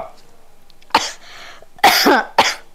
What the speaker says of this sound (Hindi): बापरे खासी खांसी आ गई एकदम से